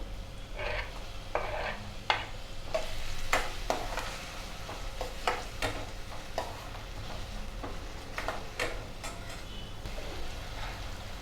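Onion and tomato frying in a pan for a Marathi ridge gourd (gilki) bhaji, with a steady close sizzle under repeated scrapes and stirring clinks of a utensil against the pan.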